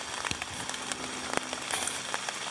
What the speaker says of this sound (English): The rain has certainly started.